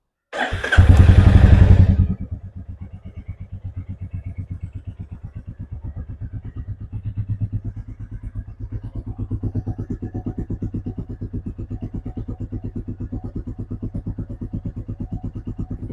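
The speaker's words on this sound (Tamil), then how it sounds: "ஸோ இதுதான் வந்து எக்ஸாஸ்ட் நோட்டு" A 2024 Royal Enfield Classic 350 engine cranks and fires with a loud burst, then settles into a steady, throbbing idle with a pulsing stock exhaust note, close by.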